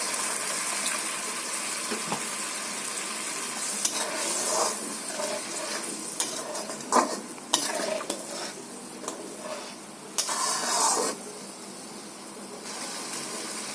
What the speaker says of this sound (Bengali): মশলাটা কষা হয়ে গেছে, আমি জল দিয়ে দিচ্ছি।